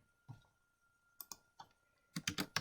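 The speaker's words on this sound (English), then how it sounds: "so that was just plain typing" Typing on a computer keyboard: sparse, irregular clusters of crisp key clicks, a single tap, then a few scattered presses and a quicker flurry at the end, fairly quiet and close, with no talking.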